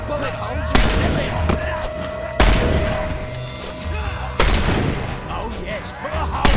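Gunfire from the video game Fable 3: three loud broadband blasts about two seconds apart, each decaying into a noisy tail over a steady hum and game ambience.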